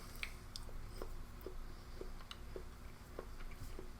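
Faint, close chewing of dried cranberries and almonds with soft rhythmic crunches about twice a second, quiet and with no talking.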